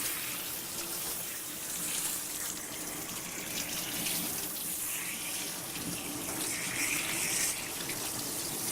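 Tap water runs steadily over a special-needs dog during a bath, a continuous close splashing gush that never stops, with no voices.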